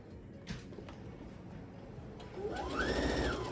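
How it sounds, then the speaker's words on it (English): A sewing machine stitches quilt fabric. After some faint handling taps it starts up, its motor whirring and rising in pitch as it runs steadily near the end. "So I'm just gonna sew a little bit and then I'll speed it up for you."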